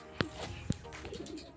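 A racing pigeon coos outdoors during a training release, with two short, close coo calls standing out over a quiet background.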